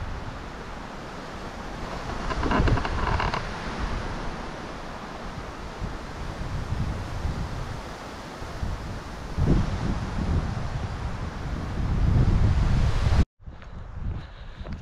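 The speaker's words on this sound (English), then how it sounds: "So it's pretty windy right now." Wind gusts steadily through aspen trees near Truckee in June, a broad rushing hiss that swells and eases in waves and then cuts off abruptly near the end.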